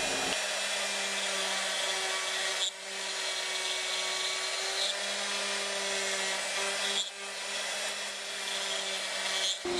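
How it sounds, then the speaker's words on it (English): A CNC router cuts a game prototype piece, a steady loud whine with a constant hum holding for the whole stretch, with brief dips where the spindle pauses or changes pass. No one talks. "It's all done running. You pull it up off of the CNC router."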